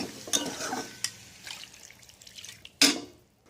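Water poured into a pot of mutton curry, giving a few short splashing and liquid bursts close by, the last one the loudest before it settles to quiet.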